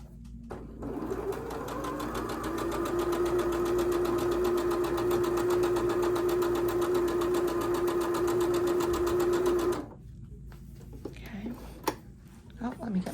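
A sewing machine whirs in a fast, steady run of stitches for several seconds, then stops, followed by faint handling noises.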